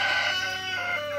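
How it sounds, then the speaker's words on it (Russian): A young Zagorsk cockerel crows once, close and fairly loud, a brief strained call trailing off within about a second. "получается, петушок Загорский."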